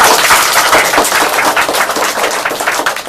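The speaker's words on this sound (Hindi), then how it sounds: "इनके लिए जोरदार तालियां लगाइए।" Loud, dense applause and clapping from a crowd at a kids' quiz-show seminar, a steady wash of claps filling the whole stretch with no talk over it.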